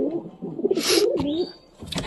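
Giribaj pigeons in a coop with eggs and chicks give a close, throaty coo of rolling notes, followed by brief sharp rustles and a wing flutter nearby.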